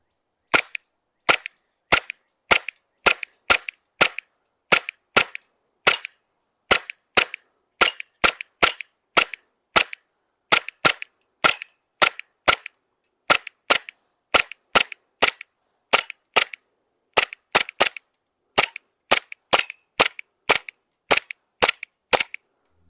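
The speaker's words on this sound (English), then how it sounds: "I'm going to shoot it on semi-automatic" A Glock 18c airsoft pistol running on green gas fires BBs on semi-automatic: dozens of sharp, snappy pops in quick, slightly irregular succession, loud and close, with silence between shots.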